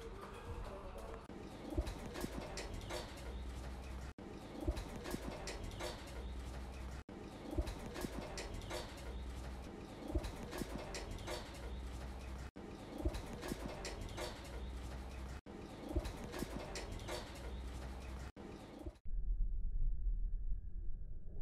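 Racing pigeons bred for long-distance flights coo softly in a loft, low repeated calls over faint bird chatter across several short cuts, ending in a quieter, muffled stretch.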